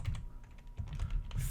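Quick bursts of keystrokes on a computer keyboard, close and clear, with short uneven clusters of clicks and no talking.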